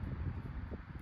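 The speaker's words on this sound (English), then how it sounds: "That wind is whipping." Strong wind blowing across an outdoor shooting range, a continuous low buffeting rumble with gusty swells, close and steady for a short moment with no talk.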